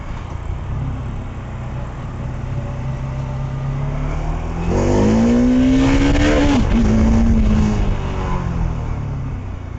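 A Bajaj Dominar 400 motorcycle with stock exhaust, idling loudly up close before a rising rev that peaks and drops back to idle.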